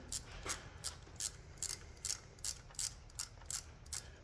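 A hand ratchet snugs down bolts on a 1961 Harley-Davidson FL Panhead engine, giving about eleven evenly spaced bursts of clicking pawl in a quiet garage.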